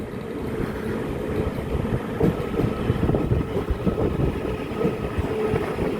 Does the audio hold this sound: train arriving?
yes